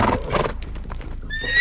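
Tethered horses near a hut whinny in a loud, close, agitated burst, followed by a shrill rising neigh, with hoof clatter mixed in.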